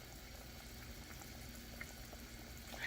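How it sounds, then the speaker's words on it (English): Chicken and noodles boil quietly in a pot, a soft steady bubbling hiss with faint pops, low and close, growing slightly louder at the end, with no talking. "And just let them boil until they are done, completely done."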